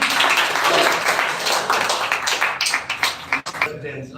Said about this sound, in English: So please welcome with a huge round of clap, Mr. DIIT.